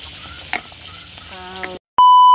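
Vegetables such as string beans and moringa leaves sizzle and fry in a pan while being stirred, with a few scraping clatters of the utensil, followed by a brief silence and a loud electronic beep tone.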